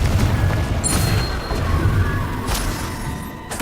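Confringo blasting spell detonations in the game Hogwarts Legacy, a steady low rumbling boom with sharp bursts and crackles near 1 and 2.5 seconds, loud and continuous with no voices.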